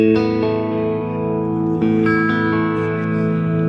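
Clean, dry electric guitar through a Soldano amplifier with no effects, sustained ringing chords with a few changes, steady and fairly loud.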